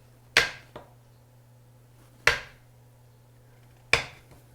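A knife cuts strips of butter into half-inch chunks on a board: three sharp, close chopping knocks spaced about two seconds apart, each with a short decay, over a steady low hum with no talking.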